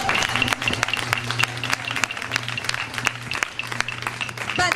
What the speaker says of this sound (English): we should applaud them again for that